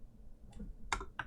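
A new computer keyboard clicks in a few sharp, separate keystrokes, quiet and close, with soft background hum between them during a gaming session.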